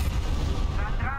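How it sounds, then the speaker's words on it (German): A loud explosion in the video game Dying Light 2 rumbles as a dense, sustained blast with crackling debris, heavy and close throughout. "Jetzt explodiert es doch."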